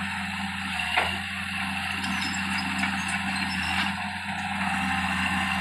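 A tractor engine runs steadily while it levels a field with a blade, giving a continuous low drone with a faint mechanical clank, moderately close, with no talk.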